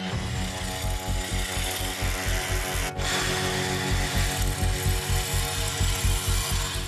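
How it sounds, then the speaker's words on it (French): A drill bores holes into the granite wall of a narrow tunnel to set explosives, hammering in a fast, steady rhythmic pulse with a grinding rasp, loud and close, with a brief break midway. "On perce 2 trous en bas."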